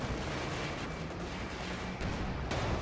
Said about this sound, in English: that's just destroying some debris there